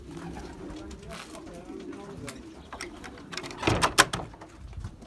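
Racing pigeons arriving at the loft after a 200 km old-bird race coo softly in the background, with a few sharper bird sounds and a clatter near the end; people talk nearby.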